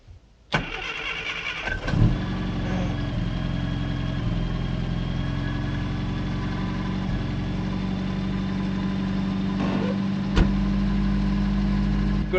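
A classic Mini engine cranks briefly, catches and settles into a steady, loud idle close by, with a small blip near the end; the car sits in a desert setting and is running rich.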